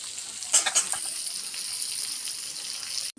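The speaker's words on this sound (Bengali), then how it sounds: "আলুগুলো আমি লাল লাল করে সুন্দরভাবে ভেজে নেব।" Potatoes fry in a pan with a steady bright sizzle, punctuated by a few brief stirring clatters near the start, then cut off abruptly at the end.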